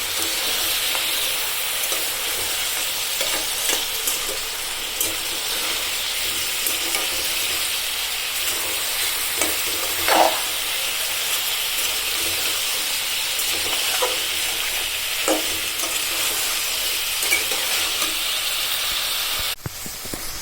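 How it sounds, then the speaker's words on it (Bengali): Beans and eggplant frying in a pan, a steady loud sizzle and hiss with occasional scraping stirs of the spatula throughout, no talking. "শিম আর বেগুন ভালোভাবে কষে যাক, তারপর আমি গুঁড়ো মশলাগুলা দিব।"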